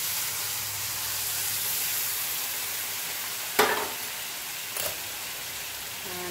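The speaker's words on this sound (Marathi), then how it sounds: "हळूहळू हे हलवून घ्यायचं आहे।" Semolina sheera cooking over a low flame with ghee, milk and sugar, a steady close hiss of simmering broken by two sharp scrapes of a spoon stirring the pan.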